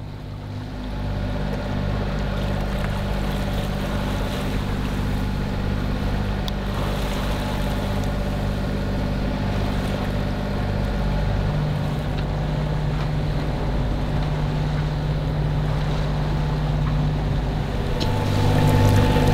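A sailboat motors along under engine power off Rostock, its steady inboard engine droning loud and close with a low hum throughout, water and wind noise mixed in, and no talking.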